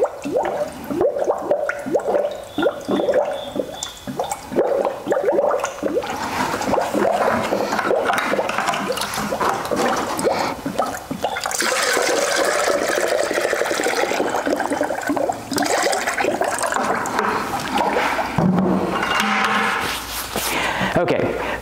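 Coolant gurgles and bubbles steadily while a truck's cooling system is refilled after a pressure test, wet churning and splashing running continuously and fairly close, with no speech over it.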